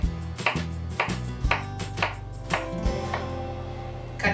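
A knife chops watermelon sticks into cubes on a cutting board, about ten crisp, close, evenly spaced thuds landing every half second or so.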